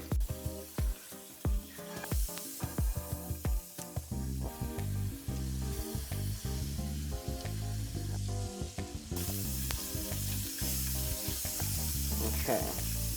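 Beef fat and butter sizzling in a hot pan for filet mignon, a dense, steady frying hiss throughout with rhythmic thumping and clatter over it, likely from background music.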